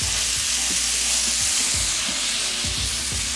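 Sliced chicken thighs marinated in taco seasoning sizzle loudly in a hot pan, a steady broadband hiss broken by several low knocks and scrapes as the pieces are spread out.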